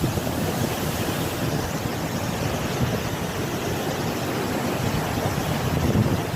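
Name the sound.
rough sea waves behind a house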